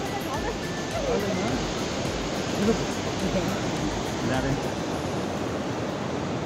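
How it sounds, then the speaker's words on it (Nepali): A waterfall roars as a steady, broad rush of falling water, close and loud throughout with no break, heard from a viewpoint during a Holi festival outing. "This is Jharna."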